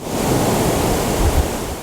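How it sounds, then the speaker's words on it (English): Ocean surf crashes along the Los Angeles coast, a steady broadband wash of breaking waves with a slightly louder surge near the end, close and continuous with no voices. "just like the waves crashing along our coveted coast"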